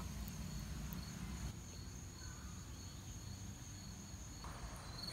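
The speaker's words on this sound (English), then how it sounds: "There's like a whole bunch of these little crickets." Steady high-pitched insect chirring, crickets trilling continuously at a moderate distance over a low outdoor rumble.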